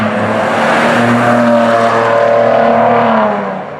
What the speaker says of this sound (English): Maserati knows how to do engine sounds, and this car is no different.